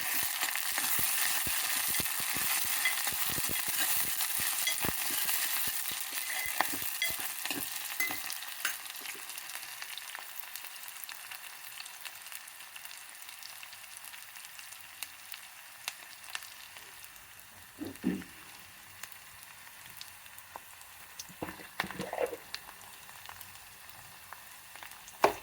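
Potatoes and fenugreek leaves frying in a pan, a steady close sizzle that is loud at first and then settles quieter, broken by a few stirring scrapes near the end.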